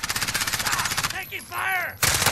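Rapid automatic gunfire rattles loudly in the video game Warzone, a fast burst that stops briefly, then returns, with a player voice audible during the gap.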